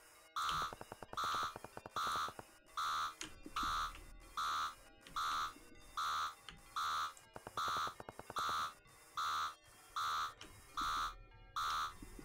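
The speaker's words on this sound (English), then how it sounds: "There's a button on the cockpit and on the control panel console to turn off the alarms." Repeating electronic cockpit alarm tones in the sci-fi game Adrorium, about a dozen evenly spaced bursts over steady rhythm, loud and alone with a faint low rumble beneath.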